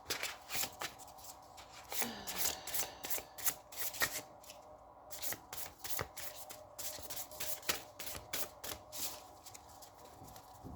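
Tarot cards are shuffled close up in quick riffling bursts, a soft papery flutter repeating with brief pauses over a quiet room.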